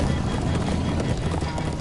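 Horse hooves pound quickly and continuously at a gallop in Minecraft: Story Mode, loud and close, with a thick, busy clatter throughout.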